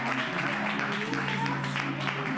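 A church congregation claps along in a steady, dense wash of applause during a worship service, with voices mixed in under the clapping.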